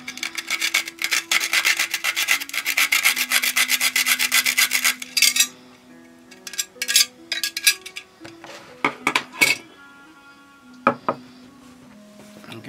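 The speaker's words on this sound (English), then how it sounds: "going to grate some beautiful nutmeg into this" Whole nutmeg rasped against a fine grater over a bowl of beaten eggs and meat for an Italian ricotta meatloaf, a loud rapid scraping run for about five seconds, then scattered shorter strokes and light clinks.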